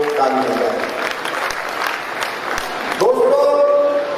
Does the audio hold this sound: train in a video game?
no